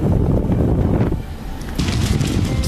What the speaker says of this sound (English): You can hear the fire's jet engine roar.